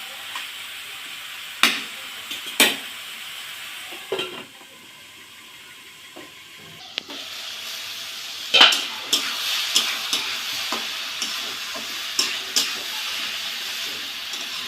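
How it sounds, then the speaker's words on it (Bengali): Bottle gourd with mung dal sizzles steadily in a frying pan while a spatula stirs it, with repeated sharp scrapes and knocks against the pan over a continuous frying hiss. "এবার আমি নাড়াচাড়া দিয়ে আর একটু ঢাকা দিয়ে দেবো"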